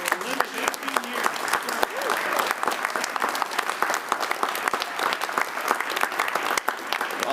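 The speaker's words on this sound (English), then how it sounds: "I just would like to hear a round of applause and appreciation for Linda's 18 years" A town meeting audience claps for a retiring town clerk, a sustained round of moderate applause with individual sharp claps standing out throughout, steady for over seven seconds.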